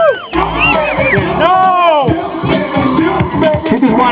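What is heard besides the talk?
crowd cheering and whooping at a car show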